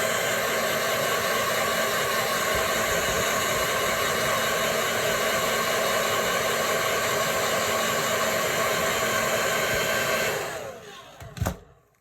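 Hair dryer blowing steadily to heat the joints of a Marvel Legends Spider-Man action figure, a loud continuous whooshing close by that cuts off near the end with a brief clunk.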